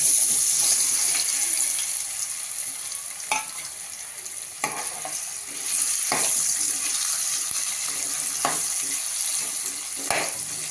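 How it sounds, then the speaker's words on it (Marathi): Potato pieces fry in hot oil in a pan, giving a steady close sizzle with occasional clinks and scrapes from stirring. "गरम तेलामध्ये आपण त्या फोडी घातल्या आहेत साधारण पाच ते सात मिनटं आपण त्या अशाच तेलावर फ्राय करून घेऊया"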